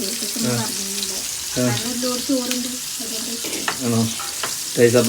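Sardines frying in a pan give a steady, bright sizzle throughout, overlaid by a tonal, voice-like melodic sound in the background.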